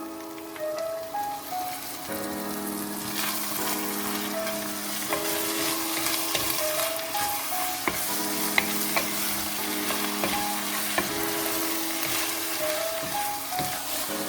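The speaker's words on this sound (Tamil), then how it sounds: "இப்போ இந்த ஸ்டேஜில் நான் சமையலுக்காக பாவிக்கிற வைன் ஊற்ற போகிறேன்." Turkey ragù sizzles steadily in a pan while cooking wine is poured in and the mixture is stirred, with a continuous frying hiss and light scraping throughout, close and fairly loud, no talking.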